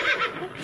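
A horse lets out a short, close whinny, a brief rising and falling call heard alone.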